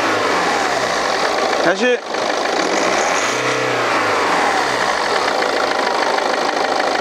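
A BMW G30 520d engine idles steadily, then revs up and falls back with a rising and falling drone as turbo pressure passes through the intercooler hose, while someone briefly speaks over it.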